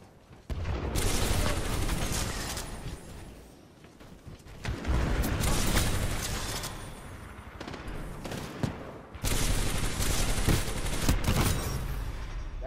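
L-Star energy gun in Titanfall 2 fires in long sustained bursts, loud and dense, broken by two short lulls before the shooting resumes.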